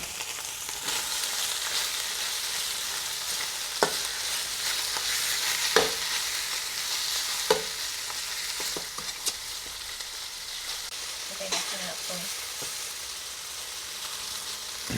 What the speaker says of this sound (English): Now we're gonna cook this meat on here for about 2 to 3 minutes on each side